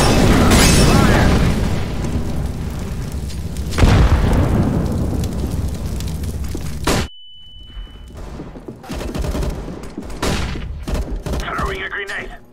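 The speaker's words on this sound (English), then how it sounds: "Throwing a grenade!" Grenade explosions and heavy gunfire in the shooter game CS:GO, a loud booming barrage that cuts out abruptly at about seven seconds. A brief tone follows, then quieter scattered shots and thuds.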